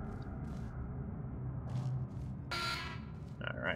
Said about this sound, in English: lots of doors that beep at me.